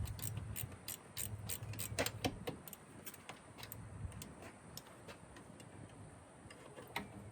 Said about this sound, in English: Need a ratchet in this case.